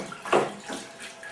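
Tap water runs over a homemade plastic 78 rpm record being washed, a close uneven splashing with a brief louder gush near the start, then softer trickling spurts.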